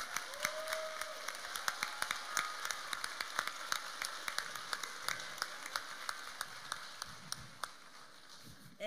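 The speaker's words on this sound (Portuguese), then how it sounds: "Aplausos de pé aqui no Teatro da Paz." Standing ovation in the Teatro da Paz theatre in Belém, Pará, during a live music awards ceremony: a full house claps steadily in a dense, sustained wash of hand claps with a few sharper nearby claps, no voices over it.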